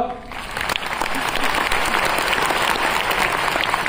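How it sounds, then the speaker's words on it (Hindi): A large audience at a lifestyle business program in Nagpur breaks into sustained clapping that swells and holds steady, with a voice briefly audible at the start. "दिखाई दिया तो ताली बजाओ"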